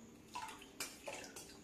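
Water is poured onto a stone grinding slab in a home kitchen, making brief splashing, trickling bursts that are close but fairly quiet, with no talking.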